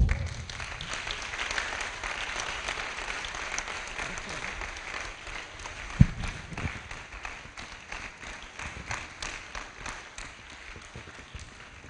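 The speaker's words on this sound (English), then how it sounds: "Continue clapping." Audience at an award ceremony clapping continuously, a dense steady patter of many hands with one sharp thump midway, slowly thinning toward the end.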